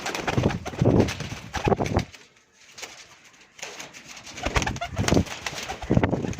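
A male and female pair of pigeons cooing in soft repeated bursts with a brief quiet gap, close by, with faint rustling and no talk.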